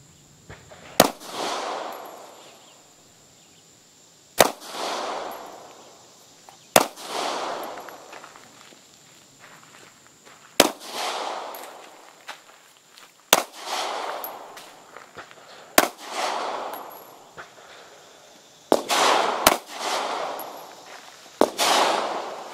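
Sharp, close pistol shots from a Taurus 709 Slim 9mm firing Aguila ammunition, about eight single reports spaced a few seconds apart, each trailing off in an outdoor echo, with no voices.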